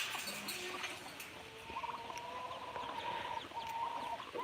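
Turkeys and chickens cluck and chatter in a farm pen in rural South Dakota, several overlapping calls and drawn-out tonal notes heard close by over a steady background.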